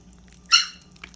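A puppy gives a single short, high yip close by in a home kitchen, a quick bright bark followed by a faint second squeak, otherwise quiet.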